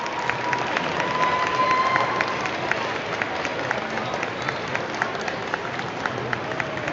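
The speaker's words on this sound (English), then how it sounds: "Round of applause" An audience at an Asian Pacific Islander Heritage Month celebration applauds and cheers after a stage performance, with dense sustained clapping and scattered whoops throughout, steady and fairly loud with a crowd murmur underneath.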